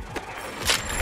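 A weapon reload in the battle royale game Hyper Scape, a short run of mechanical clicks and metallic slides, fairly close and alone.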